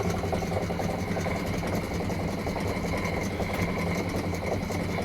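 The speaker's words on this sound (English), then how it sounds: "this is another first for me. One homemade lathe." Homemade lathe running with a steady mechanical whir and hum, continuous and even throughout, close by with no talking.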